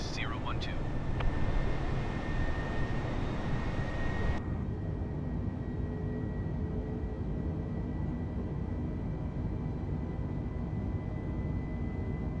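An American Airlines jet climbing after takeoff from Nashville in Microsoft Flight Simulator 2020, a steady broad roar of engine and airflow that drops slightly in brightness partway through, with a quiet voice murmuring.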